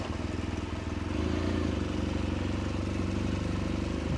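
An M901 motorcycle rides at night, its engine a steady, close, loud drone that holds with a rhythmic pulsing throughout.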